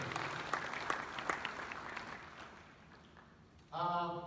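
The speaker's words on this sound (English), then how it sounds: "Please, a round of applause for AIO." Applause from a crowd fades over a few seconds, then a loud burst of music or tones cuts in near the end.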